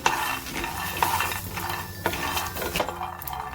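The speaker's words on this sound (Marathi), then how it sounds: "आपण शेंगदाणे भाजून घेऊया ते छान खरपूस भाजायचे शेंगदाणे" Peanuts dry-roasting in a pan, with steady stirring scrapes and light rattling of the nuts against the metal, close and moderately loud, with faint music underneath.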